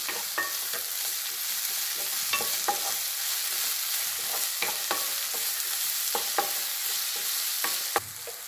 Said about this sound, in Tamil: அதையும் இதோட நல்லா வதக்கணும்